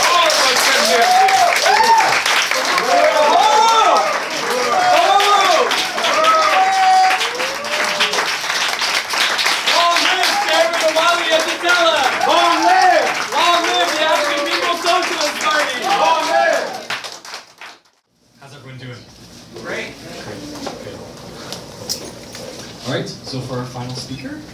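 An audience at a political rally for a speaker gives sustained loud applause with cheering voices for about seventeen seconds, then it cuts off and quieter crowd murmur and talking follow.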